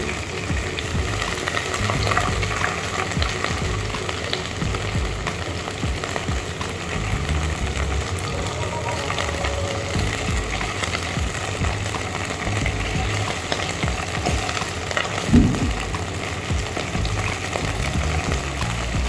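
Beef for beef rolls searing in a hot pan, giving a steady, dense sizzle that holds throughout at moderate loudness with no talk.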